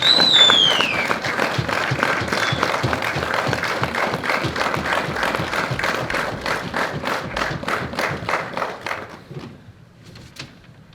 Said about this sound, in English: So please join me in giving Mayor Mike a huge round of applause